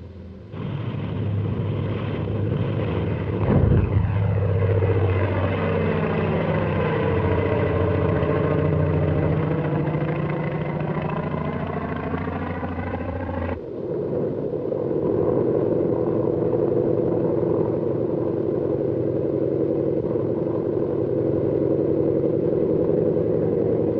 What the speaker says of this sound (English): Aircraft leave the flight decks during extensive attacks that softened up the Central Pacific targets for amphibious operations.